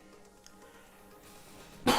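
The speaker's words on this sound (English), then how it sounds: "I don't know why I'm coughing" A single sharp cough bursts out near the end, close and loud, after a stretch of quiet room tone.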